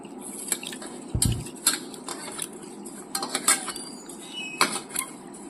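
Gobindobhog rice being washed with water in a pot, with close, light clinks and clatters of metal against cookware, scattered scraping and watery swishing in irregular bursts.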